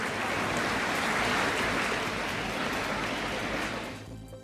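Dense, rain-like applause from an audience after a student's speech, filling the hall evenly before fading out in the last half second.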